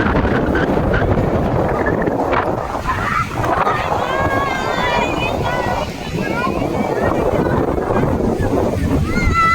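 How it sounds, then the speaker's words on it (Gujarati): Sea waves and wind at Tithal beach in Valsad, Gujarat, with a steady broadband roar of surf and gusting wind against the microphone, while someone talks and children's voices sound faintly in the background. "ઠંડો ઠંડો પવન અને એકદમ મજા આવે તેવા મોજા આવી રહ્યા છે."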